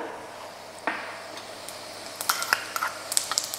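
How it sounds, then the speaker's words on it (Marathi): Cumin seeds hitting hot oil for a garlic fenugreek stir-fry, a low sizzle that turns into sharp crackling pops and spits in the final second and a half. "तेल तापलंय, यात टाकूया जिरं."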